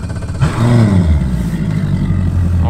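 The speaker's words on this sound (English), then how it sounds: "So let's just drive the boat a little bit." A bass boat's outboard engine runs under way, a steady loud rumble that rises in pitch as the throttle opens, with wind and water noise throughout.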